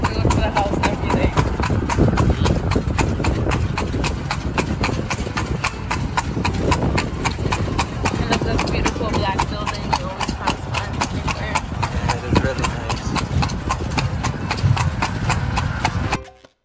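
Steady clip-clop of horse hooves pulling a carriage around Santiago de los Caballeros, a brisk even rhythm running throughout over road noise, with voices talking in the background.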